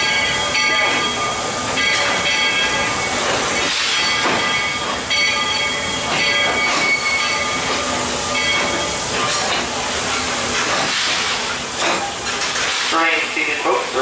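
A ride train rolls along its rails with a loud, steady rumble and hiss, clattering and squealing faintly throughout.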